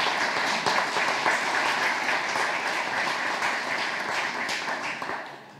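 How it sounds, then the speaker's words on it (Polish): Theatre audience at an evening of Fredro's works claps for the performers, a full, even wash of applause that holds steady and then fades out in the final second. "Raz jeszcze brawa dla nich."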